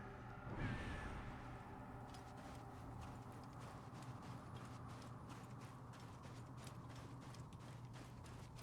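Horse hooves in Assassin's Creed clip-clop in a steady rhythm against a droning background, with a brief louder thump near the start.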